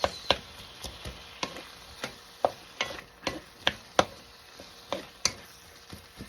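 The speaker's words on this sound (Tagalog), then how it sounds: "Singkutsayin muna natin ito." Onions and tomatoes cooking in a pan, with a run of sharp scraping stirs and light taps at a steady, uneven rhythm over a soft background hiss, close and moderately loud.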